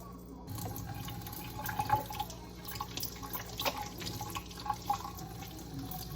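Water runs from a kitchen tap while hands are washed with dish soap, a steady close splashing stream with occasional drips and sloshes.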